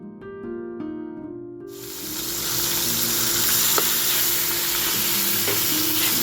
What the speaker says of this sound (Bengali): আর এখানে মাছের মাথাটা ভেজে নিচ্ছি।